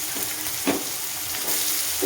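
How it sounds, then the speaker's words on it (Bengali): Chopped onions frying in oil with garlic for a pomfret dish, a steady close sizzle with a few brief stirring scrapes. "পেঁয়াজটা একটু ভাজা ভাজা হোক।"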